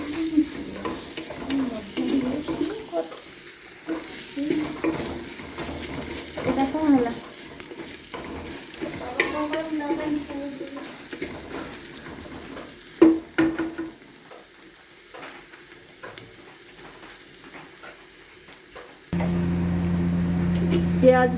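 Onions frying until brown in a clay pressure cooker sizzle steadily while a utensil scrapes and stirs them in close, irregular strokes; a voice speaks now and then over the cooking.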